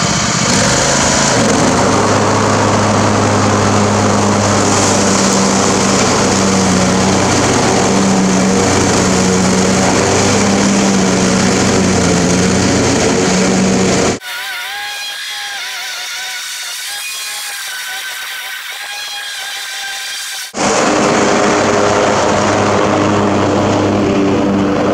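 A riding lawn mower tractor engine drones loudly and steadily nearby, dropping to a muffled, quieter hum for several seconds before returning at full volume.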